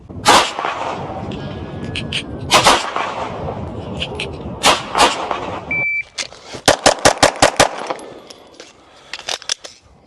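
A Glock 17 pistol fitted with an ARC Division Reactor is fired at a shooting range in loud, sharp shots. Irregular single shots and pairs come first, then a rapid string of evenly spaced shots after a brief pause.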